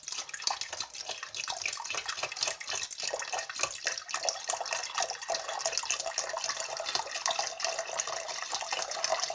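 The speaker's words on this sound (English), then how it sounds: "Now let's start pouring in our apple juice." Apple juice poured into a container for brewing homemade apple mead, a steady continuous splashing liquid stream running throughout, fairly close and without talk.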